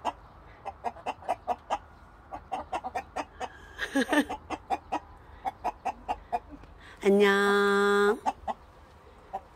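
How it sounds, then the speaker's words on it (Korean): Chickens of a few different breeds cluck steadily in a coop beside a vegetable garden, rapid short clucks close by, with one louder drawn-out squawk near the end and a brief greeting spoken over them. "닭 우는 소리 너무 좋다"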